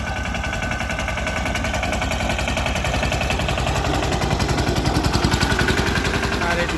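A mini tractor engine runs in a cotton field, a loud, rapid, steady chugging putter close by that grows slightly stronger and more pulsing toward the end, with no voices.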